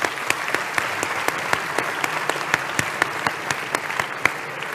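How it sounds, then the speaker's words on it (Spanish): Audience applause at a business forum round table, a dense, steady wash of many hands clapping with sharp individual claps standing out, sustained throughout with no talk. "Un aplauso, por supuesto."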